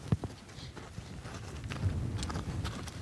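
Hooves clip-clop at a walk as a horse is schooled in an arena, a loose, uneven run of fairly close, moderate thuds with faint rustling between them and no talk.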